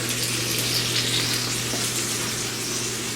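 Food caramelizing in a hot pan for a steak sandwich sizzles and crackles steadily, a continuous close frying hiss with no talking.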